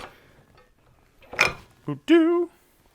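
A front axle is slid out of a Harley-Davidson Sportster wheel, heard as a brief metallic scrape and clunk followed by a short, tonal squeak of metal on metal, close by in an otherwise quiet workshop.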